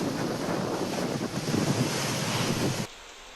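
A strong, fast stream of floodwater rushes in a loud, dense roar mixed with wind buffeting, then cuts abruptly to a much quieter hush near the end.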